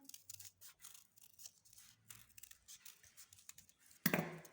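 Scissors snipping paper to cut out a rounded tulip shape for a children's appliqué craft, a series of soft, quiet, irregular cuts close by, then a louder rustle of paper at the end.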